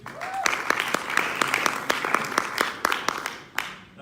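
An academic panel audience applauds as university professors are introduced, a dense wash of many hands clapping steadily at moderate loudness with sharper individual claps standing out throughout.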